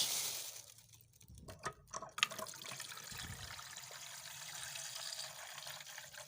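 Running water splashes and trickles as raw fish is rinsed under a kitchen tap, a faint, steady flow with a few sharper splashes early on.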